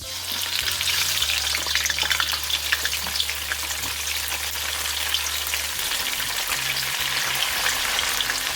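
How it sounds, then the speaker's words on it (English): Tofu frying in hot oil, giving a loud, dense, steady crackling sizzle that carries on evenly throughout, close up with no talking. "Now we can go on and fry our tofu. We can gently add our tofu in hot oil."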